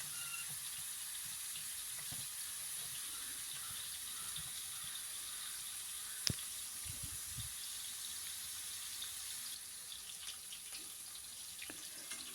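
Prawns fry in oil in a pan for a prawn roast, a soft continuous hiss and sizzle, fairly faint, with a single sharp clink and a few low bumps from turning them.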